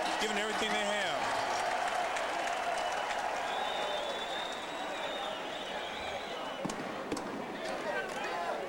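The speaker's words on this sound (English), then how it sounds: "This Orlando crowd goes back and forth from being roaring to quiet." A large indoor crowd at an arena football game in Orlando roars and cheers loudly, a sustained wash of noise with whistles and shouts, easing slightly and then swelling again.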